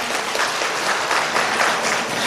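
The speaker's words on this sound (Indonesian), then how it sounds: "boleh tepuk tangan dong" An audience at a hotel religious gathering claps continuously, a dense, even patter of many hands that fills the whole moment without any voices on top.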